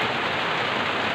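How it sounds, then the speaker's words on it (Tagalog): Steady rain pours down on a rural farm in the province, an even, dense hiss of drops hitting surfaces, close and constant throughout with no talk. "kay ulan pa man"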